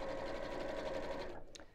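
A domestic sewing machine runs steadily, quilting layers of fabric for a messenger bag, and its close, even hum stops near the end with a small click.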